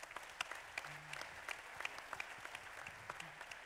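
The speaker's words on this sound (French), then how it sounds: "Merci de les applaudir" Applause from an audience at a general assembly meeting, with scattered hand claps at a modest level from a room of attendees, steady and fairly faint throughout.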